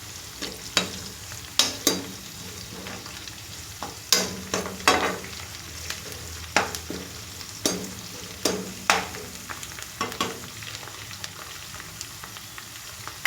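A spatula stirs an okra and cucumber mixed curry in a pan, making a run of sharp scrapes and knocks at an uneven rhythm. A faint sizzle sits underneath, and no one talks.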